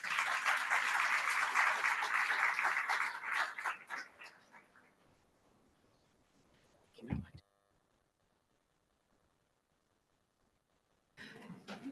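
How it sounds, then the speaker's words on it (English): An audience at a project closing conference claps for a few seconds before the applause thins out and stops, followed by quiet, a single short knock and a brief rustle near the end. "One applause, please."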